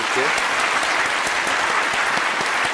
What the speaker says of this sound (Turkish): Bir de kocaman alkış istiyorum.